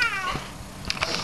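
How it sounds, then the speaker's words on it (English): A red cat gives one close, clear meow that slides downward at the start, followed by a few soft, brief sounds, with no voices over it. "Hey, Demon Kitty"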